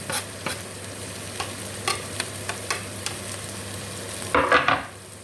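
Steady sizzling of garlic in a hot frying pan with occasional sharp clinks of a utensil, ending in a louder burst of crackling and stirring.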